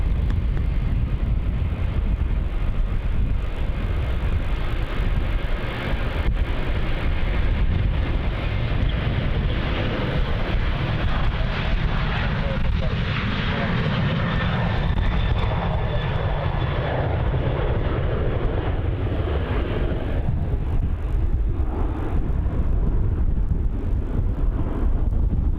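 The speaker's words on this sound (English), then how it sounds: "Departing now on runway 34, we've got Virgin Australia flight VA195 off to Nandi." A Virgin Australia jet departs runway 34 at Melbourne Airport, a continuous loud engine roar with wind buffeting, its pitch shifting slowly as the aircraft climbs away.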